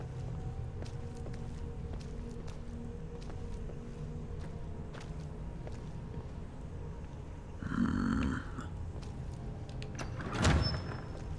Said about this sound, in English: Careful, it's a trap. Trap door.